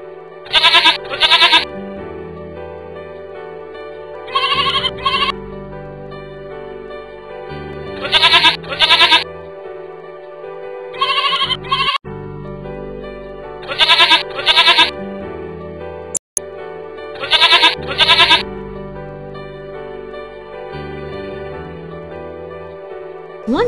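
A herd of sheep bleating in repeated bursts of overlapping bleats, loud and close, separated by short gaps over a steady low background.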